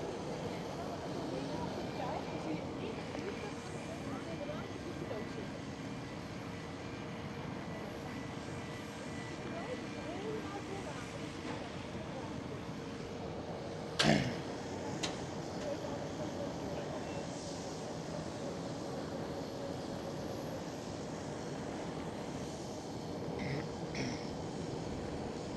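A Sky Express airliner departs runway 24 at Schiphol Amsterdam, its engines a steady, distant broadband roar that holds throughout, with a brief sharp knock midway and quiet background noise.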